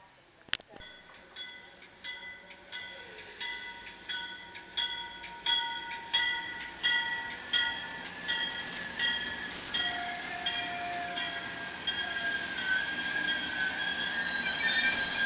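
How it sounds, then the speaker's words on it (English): A MARC commuter train bound for Washington, D.C. pulls into Aberdeen, Maryland station with rhythmic wheel clatter, rising rumble and sustained wheel squeal, loud and close, with a brief voice underneath. "Alright, this is a MARC train going toward Washington, D.C."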